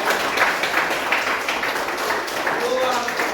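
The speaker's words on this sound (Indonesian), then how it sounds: "Mari kita tepuk tangan." Students in a classroom lesson clap together in a steady, dense burst of applause lasting a few seconds, with faint voices mixed in.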